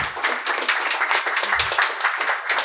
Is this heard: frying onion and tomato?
no